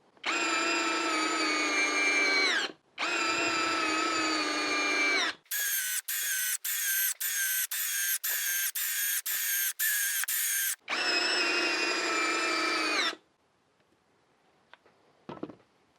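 Hyper Tough brushless single-speed drill driving construction screws: long steady motor whines broken by a rapid run of sharp ratcheting clicks, then another whine, close and loud, ending in a few faint knocks.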